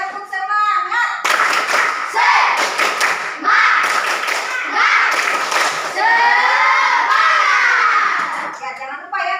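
A classroom of children performs a rhythmic spirit clap during a lesson, bursts of loud group clapping and shouted chanting repeating in patterned groups, with the class voices mixed in throughout.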